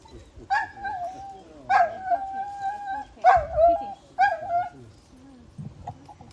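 A dog at a celebration-of-life gathering howls in four drawn-out, wavering bursts, loud and close, with muffled room noise and voices between the howls.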